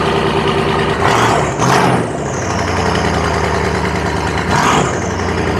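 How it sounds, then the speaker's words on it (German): A Mercedes S500 Coupé fires up with a loud, deep rumble and blips its throttle twice in sharp revs, then settles into a heavy, steady idle close by; no voices are heard. "wir sind jetzt am Auto hinten und wir starten das Ding jetzt mal."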